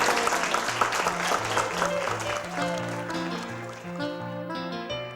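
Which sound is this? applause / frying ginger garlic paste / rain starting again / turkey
applause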